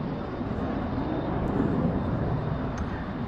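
Avro Vulcan XH558 bomber flying at the Yeovilton Air Day display, a steady broad jet roar that holds loud and unbroken throughout with no speech.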